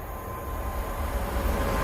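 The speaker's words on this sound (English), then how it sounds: "About to pass by now is the late running 10:50." An East Midlands Railway train passes through Loughborough station without stopping, a steady low rumble of wheels and engine holding at moderate loudness throughout, with no voices over it.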